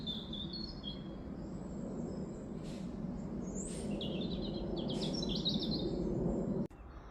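A robin in a pumpkin patch sings a clear run of quick trilling, warbling phrases, fairly close and distinct above a constant low background hum, ending with a brief knock.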